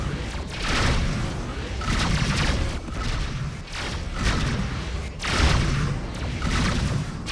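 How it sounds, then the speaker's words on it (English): Incoming missile explosions in a video game arrive as a rolling series of heavy booms and thuds, loud and close, pulsing in waves roughly every couple of seconds with no clear pause between blasts. "Missiles inbound."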